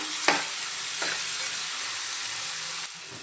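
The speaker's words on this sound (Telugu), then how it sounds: "కొంచెం ఫ్రై అవ్వనిద్దాము కొంచెం కరివేపాకు ఒక రెండు పెద్ద సైజు టమోటాలు కూడా ఇవి కూడా కొంచెం మగ్గనిద్దాము" Curry leaves and two large tomatoes fry in a pan for a Rayalaseema-style uggani, a steady close sizzle broken by a few sharp stirring scrapes.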